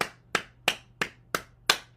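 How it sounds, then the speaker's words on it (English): Six crisp hand claps ring out one at a time at an even, unhurried pace, each sharp and close with a short decay and nothing else heard around them. "Clap your hands."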